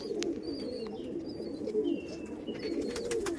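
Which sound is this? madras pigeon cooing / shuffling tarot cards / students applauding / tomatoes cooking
madras pigeon cooing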